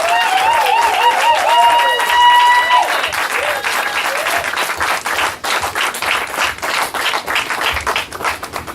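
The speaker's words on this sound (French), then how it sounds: "Une acclamation s'il vous plaît." A church congregation at an anniversary service applauds, dense sustained clapping filling the room, with voices cheering and singing out over it at first before the clapping continues alone.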